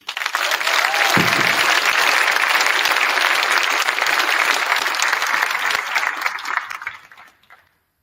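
Sustained applause from an audience at a high school athletic signing ceremony, broad steady clapping that holds for several seconds and then fades out.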